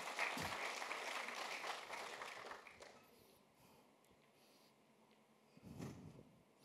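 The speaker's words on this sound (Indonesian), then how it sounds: "Tepuk tangan untuk Tuhan, beri kemuliaan yang paling meriah." Church congregation applauding during a Sunday worship service, dense clapping filling the first two and a half seconds, then fading to quiet room murmur with a brief swell of noise near the end.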